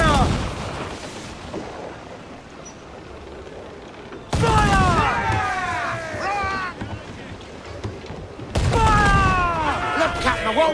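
Ship cannon volleys roar out in Assassin's Creed 4 Black Flag during a naval battle, two big rolling salvos of overlapping booms with whistling shells, set against sea and wind noise.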